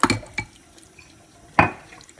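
Worcestershire sauce shaken from a glass bottle, giving three sharp, close splashy taps spaced apart, with quiet room noise between them.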